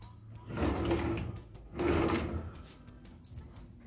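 Two pantry drawers slide open and shut one after the other in a walk-through pantry of a prefab home, each a short rumbling glide close by, with a faint click afterward.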